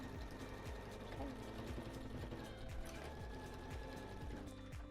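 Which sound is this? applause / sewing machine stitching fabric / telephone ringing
sewing machine stitching fabric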